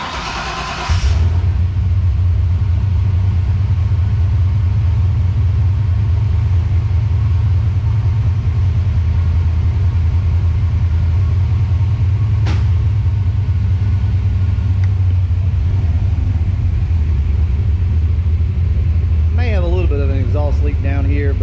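A Ford Foxbody Mustang engine cranks and fires about a second in, then settles into a loud, steady, deep idle that rumbles on throughout while someone talks briefly near the end.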